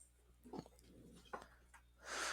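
A dog acting strangely makes a few short snorting, snuffling noises, close and fairly quiet, with a louder breathy burst at the end.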